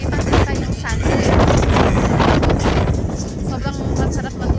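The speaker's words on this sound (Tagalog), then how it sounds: "Ayan guys, sobrang hangin." Strong wind buffets the microphone at a lakeside campground at sunset, a loud steady roar with gusts throughout, while people talk over it.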